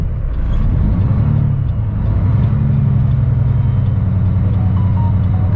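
A truck's wheels spin on icy pavement, a loud, continuous low engine rumble and drone that holds steady throughout with no talking.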